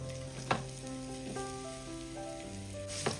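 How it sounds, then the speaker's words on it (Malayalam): Ripe plantain pieces sauté in hot ghee in a pan, giving a steady close sizzle with soft stirring clatter and a couple of sharper knocks, no talking. "ഇതിലേക്ക് നമ്മൾ കട്ട് ചെയ്ത് വെച്ചിരിക്കുന്ന നേന്ത്രപ്പഴം ഇട്ട് കൊടുക്കാം"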